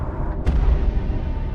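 Explosions in the Solo Leveling: Arise video game, a heavy low rumbling boom that swells with a sharp burst near the start and rolls on loudly to the end.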